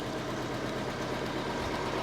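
A Morrison's lorry engine idles and creeps through a tight spot beside a house, a steady low rumble held at an even level throughout, with no talking.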